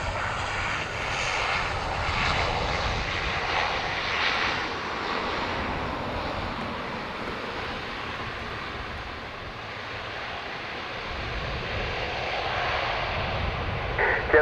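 At Dublin Airport, a Qatar Airways airliner's engines produce a sustained, fairly loud roar that slowly swells and eases over about fourteen seconds. The sound carries at middle distance, and no voices are heard.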